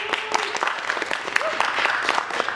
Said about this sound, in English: So let's give Sean a big round of applause